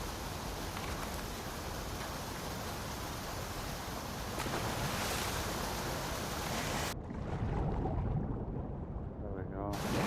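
A fast-flowing water torrent in The Last of Us Part II, a dense, loud, constant roar of rushing water that continues unbroken while the game's sound shifts partway through.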